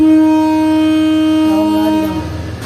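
A Sri Lankan railway train horn blares with steady harmonic tones for about two seconds, then cuts off, leaving the low rumble of the train.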